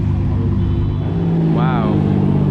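A Ferrari F355 sounds a steady engine drone as it drives past at moderate distance, with a brief rising whine midway and a voice speaking over it.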